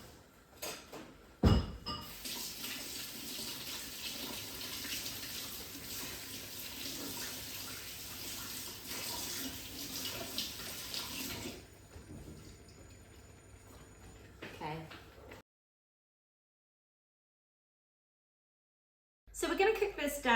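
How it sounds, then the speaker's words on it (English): Tap water runs into a kitchen sink while hands are washed under it, a steady, close splashing hiss for about ten seconds that then stops, with faint clinks and brief moments of speech around it. "just gonna wash my hands"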